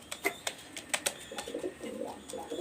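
A golden male Pakistani high flyer pigeon coos in soft, low bursts in the latter half, preceded by a few sharp knocks or clicks, close by with no one speaking.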